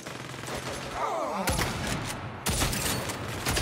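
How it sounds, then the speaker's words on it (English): Rapid, sustained minigun fire in the video game Saints Row, loud and close, with dense bursts that break off briefly and then resume. "Is that a fucking minigun?"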